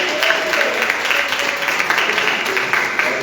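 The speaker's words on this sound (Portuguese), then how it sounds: "Para o Senhor uma salva de palmas" A congregation at a family church service applauds, a dense, continuous wash of clapping that stays loud and even throughout, with some voices mixed in underneath.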